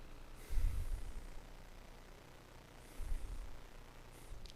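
Deliberate breathing for didgeridoo circular-breathing practice comes as two audible breaths, a louder rushing inhale and then a softer one a couple of seconds later, close and airy with no talk.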